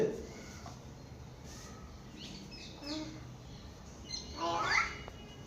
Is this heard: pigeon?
yes